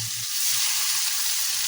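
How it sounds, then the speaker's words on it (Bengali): Rohu fish pieces fry in fully heated oil on a stove, giving a loud, dense, continuous sizzle close by with no voices. "তো মাছগুলো এই চুলায় ভাজা হোক"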